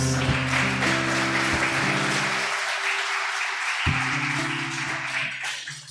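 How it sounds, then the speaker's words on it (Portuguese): Church congregation applauding during a men's seminar service, loud sustained clapping over sustained organ or keyboard chords that break off and return, filling the room without speech. "Dá uma salva de palmas para Jesus."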